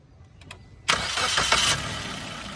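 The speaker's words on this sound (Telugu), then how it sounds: "వెహికల్ అయితే సింగిల్ సెల్ఫ్లో స్టార్ట్ అవుతుంది" A Maruti Suzuki Swift Dzire ZXi Plus petrol car turns over and fires on the first crank, a couple of faint clicks giving way to a sudden loud catch, then a brief flare before settling into a steady idle.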